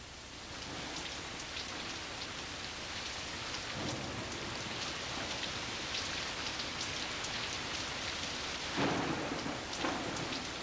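A big thunderstorm with steady rain pattering on surfaces throughout, and thunder rumbling in around four seconds and again, louder and nearer, toward the end; no voices.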